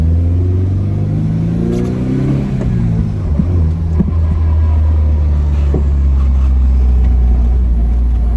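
A Honda RSX's K24 engine drones loud and steady up close, rising through a rev before settling into a deep, throaty rumble from the Mugen exhaust.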